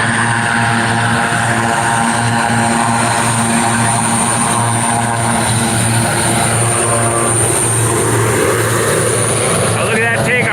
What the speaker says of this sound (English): Now look at that takeoff roll. Again, right down to the end of the runway before they can rotate with a full load of retardant.